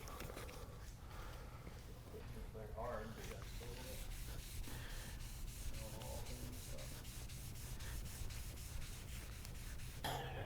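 Wet sanding of boat gel coat with 3000 grit sandpaper makes a faint, continuous back-and-forth rubbing with a low steady hum beneath, quiet and close, with soft murmurs of a voice now and then.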